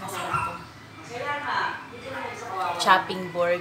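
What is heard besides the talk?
dogs barking outside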